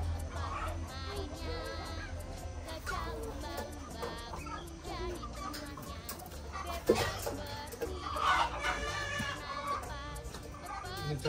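A rooster and hen pair of Bang Tiko chickens cluck and call repeatedly nearby, with a brief louder squawk partway through, while people talk quietly in the background.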